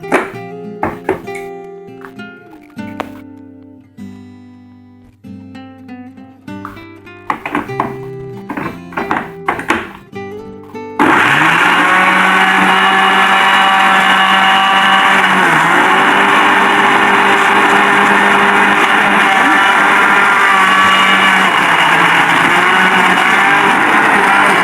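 A kitchen blender grinding shallots and garlic for gulai rendang. It roars in loudly about halfway through and keeps up a steady, whirring grind to the end, after a stretch of plucky background music.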